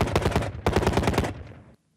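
Bursts of rapid automatic gunfire from Kurdish soldiers' positions on a front line facing Islamic State, two loud sustained volleys of crackling shots, close and harsh, trailing off into silence.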